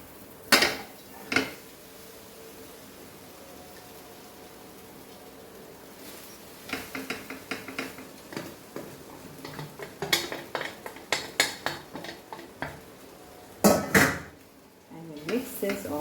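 Rice is stirred into a metal pot with cumin for Goan coconut rice, giving scattered spoon clinks and scrapes, a few sharp knocks early, then a busier run of clatters toward the end, with no talk.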